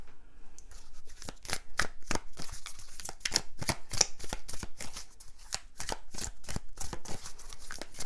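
A deck of tarot cards is shuffled over and over, with crisp, rapid riffles and slaps in an uneven rhythm, close and clear with no talking.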